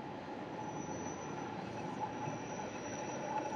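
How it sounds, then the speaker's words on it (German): A Gotthard railway train passing on the line in the Swiss Alps: a steady, fairly faint rumble of rolling wagons with a thin high wheel squeal running throughout, continuous and distant, with no voices. "Da fährt die Gotthardbahn."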